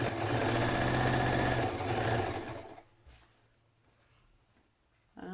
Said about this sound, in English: I am sewing around the waist so that I can attach rope.